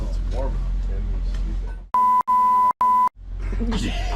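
Inside a converted school bus camper, a loud electronic tone sounds three times: long steady beeps with short gaps, following the heater shutting off, with people talking before and after.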